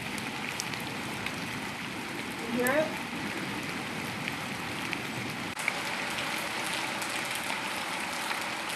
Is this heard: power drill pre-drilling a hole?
no